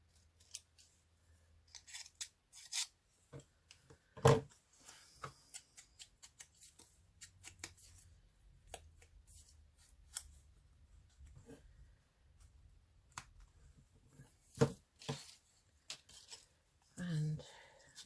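Scissors snip snaggy bits off a paper collage of a swan and a tag, giving a series of crisp close cuts and rustles at an irregular rhythm, with a few louder snaps.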